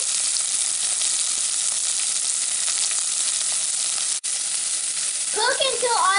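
Tomato and onion frying in a pan for a vegetable kurma, a bright continuous hiss of sizzling oil, close and steady, with a short burst of stirring or voice near the end.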